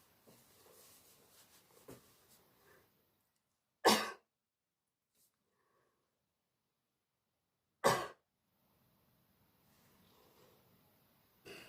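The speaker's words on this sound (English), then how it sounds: "And as you cough, you can brace your arms, and that reduces some of the jarring on your back." A person with spinal fractures, leaning forward and bracing their arms, coughs twice, each a single sharp close burst about four seconds apart, with near silence between them.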